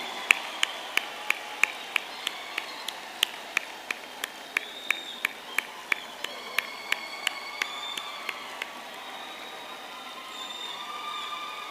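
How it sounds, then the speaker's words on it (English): Graduates at a university graduation ceremony in Durban applaud their families and friends: a few sharp, close handclaps ring out at a steady pace over a faint, continuous hiss of distant clapping in a large hall. "give them a big, massive round of applause to say thank you for everything"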